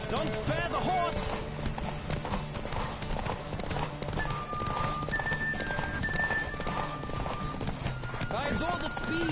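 Galloping horse hooves in The Witcher 3 drum in a fast, even clip-clop rhythm, close and steady for the whole stretch, with spoken voices over the hoofbeats.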